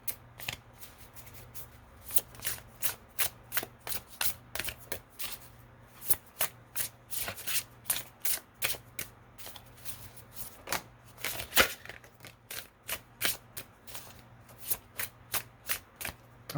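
Tarot cards are shuffled by hand in a long run of crisp riffling bursts, each a quick papery flutter repeating in an uneven rhythm, close and fairly quiet with no voice over them.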